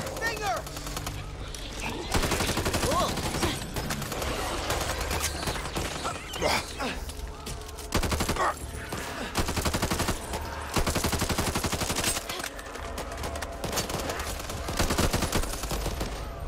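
Heavy automatic gunfire from the zombie shooter Back 4 Blood rattles in long, loud, continuous bursts with brief breaks. Players talk over the shooting.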